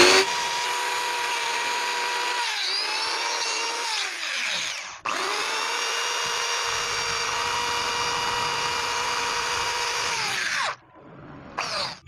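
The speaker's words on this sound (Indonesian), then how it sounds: "Nah, ini kita gunakan amplas seperti ini." Sandpaper abrades carbon deposits off a pair of motorcycle engine valve heads, a loud, steady, high-pitched grinding scrape with a brief pause midway, then continuing before cutting off near the end.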